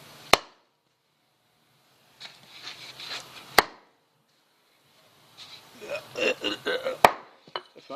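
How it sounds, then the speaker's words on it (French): A small hand-forged tomahawk, its head made from a railway track screw, chops branches outdoors with three sharp, loud cracks spaced seconds apart, and rustling twigs and light handling noise fill the gaps between strikes. "Couper les branches"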